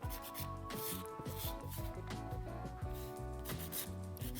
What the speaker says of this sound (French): Je vais limer à côté de la cuticule.